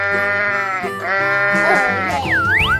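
Sheep bleating in a cartoonish 3D animal slide game, a loud, wavering harmonic call that stretches across about three seconds with a few pitch swoops near the end, heard alone without talk.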